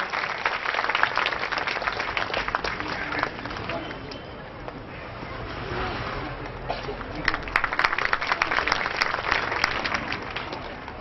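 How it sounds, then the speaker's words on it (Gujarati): An audience at a school centenary celebration applauds steadily and at length, a dense wash of clapping mixed with crowd murmur and some voices. "જોરદાર તાળીઓથી આ પ્રસંગને વધાવીએ."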